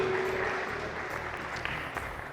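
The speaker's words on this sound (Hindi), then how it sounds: "बहुत सारी तालियां होनी चाहिए" Audience applause at a televised talent-hunt game show, a steady wash of clapping that fills the whole short stretch at moderate level with no voices over it.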